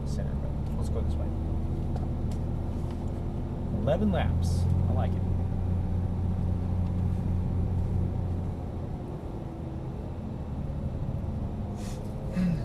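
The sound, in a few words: Nissan GT-R car driving off in first gear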